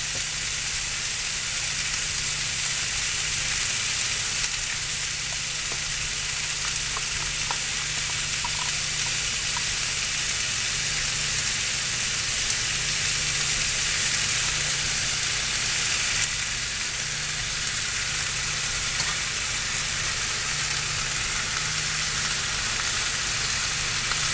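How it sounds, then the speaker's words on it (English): Campbell's oven sauce poured over chicken in a hot pan sizzles and fries in a steady, close, continuous hiss for the whole stretch, with no voices over it. "And now we add our sauce."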